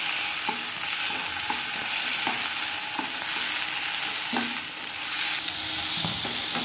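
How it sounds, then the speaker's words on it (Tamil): Onion and tomato sauté in a pan with a constant bright sizzle, while a spoon stirs and taps the pan in a loose, repeated rhythm. "இப்போ இதையும் நல்லா வதக்கி விட்டுலாங்க."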